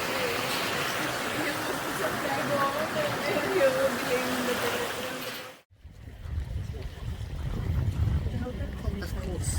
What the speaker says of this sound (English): this is the stream that runs through the cave